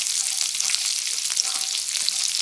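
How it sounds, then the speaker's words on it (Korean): Garlic stir-frying in a pan with rendered pork belly, a loud, dense, continuous sizzle and crackle with no pauses. "색깔 나기 시작하면 마늘을 넣고 볶아"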